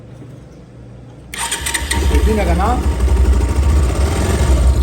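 A damaged Pulsar 180 motorcycle engine with a holed, oil-leaking casing cranks and catches after a quiet start, then runs loud and close at a rough, pulsing idle while someone talks over it.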